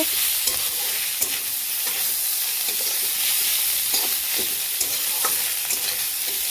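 Shredded meat is stirred and fried in a pan, giving a constant loud hissing sizzle with scattered scraping and clicking of the stirring utensil throughout.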